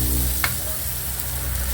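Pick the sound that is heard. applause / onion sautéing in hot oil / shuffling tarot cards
onion sautéing in hot oil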